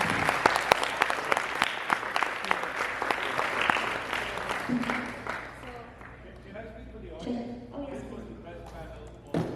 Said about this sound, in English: A round of applause for our guests, please.